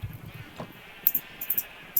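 Sheep bleat in a survival video game, short faint baas over a quiet backdrop with a few brief high clicks.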